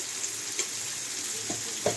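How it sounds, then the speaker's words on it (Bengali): Spices and onions stir-fry in a pan with a constant low sizzle, broken by a few soft scrapes of the spoon near the end, up close and with no speech. "এটাকে দিয়ে এখন এটাকে খুব ভালো করে কষতে হবে"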